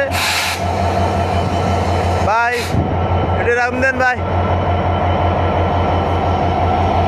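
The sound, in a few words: train departing Kulna rail station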